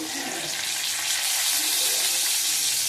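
Whole cumin seeds and two bay leaves hit hot oil for a moong dal with bitter gourd and bottle gourd, giving a steady, loud hissing sizzle that stays up close and continuous, with no talk.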